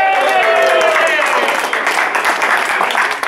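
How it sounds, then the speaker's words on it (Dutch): Audience at a herring auction gathering applauding warmly, a dense, loud, continuous wash of clapping with voices calling and cheering over it throughout. "En geef hem een hartelijk applaus"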